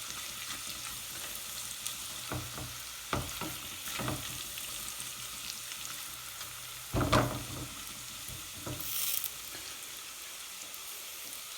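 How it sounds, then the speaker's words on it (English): Ginger and garlic frying in a pan over medium-low heat give a steady, soft sizzle, broken by several sharper scrapes and clatters of stirring. "Make sure your heat on the pan isn't too hot, otherwise you will burn the ginger and garlic."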